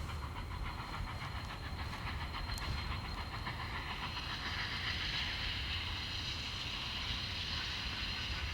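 Union Pacific 844, a half-century-old Alco-built steam locomotive, rolls steadily on a busy main line toward Cheyenne, a continuous loud rumble with hiss and faint rhythmic clickety-clack of wheels, no voices.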